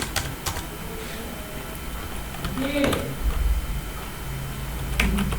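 Typing on a computer keyboard, scattered clicks and a few sharp key taps spread irregularly across the clip, with someone speaking Hindi over it.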